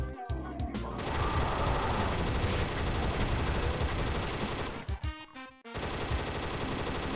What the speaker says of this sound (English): Okay, I literally have this assault rifle.